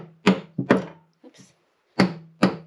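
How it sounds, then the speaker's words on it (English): A hammer striking during installation of a stone sink in a barn conversion, four loud close thuds in two pairs separated by a short pause with a faint scrape between them. "Let's do a little batchy bash with a hammer."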